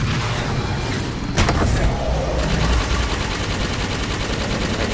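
Rapid automatic weapon fire in Halo 5: Guardians, a steady close stream of shots against a busy battle backdrop with a brief loud burst partway through.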